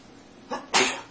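A single sharp sneeze bursts out close by after a short inhaled catch, loud and brief against a quiet room.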